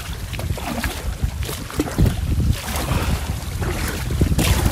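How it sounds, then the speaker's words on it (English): Cold wind buffets the microphone on the Murray River while kayaking, a steady loud rush with gusting swells and low rumbling bursts, mixed with faint water sounds and no talking. "It's cold and windy again."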